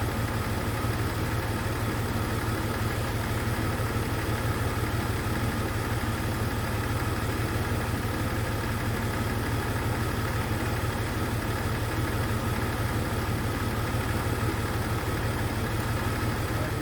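Jeep XJ engine idling with the number 1 fuel injector not firing, a dense, steady mechanical rumble and clatter heard close up, unbroken and even throughout.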